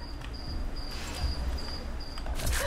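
A voice imitates a cicada's chirp during a Fortnite match, a thin, shrill, buzzing tone repeated in short pulses at a steady rhythm, close and alone with no other talk.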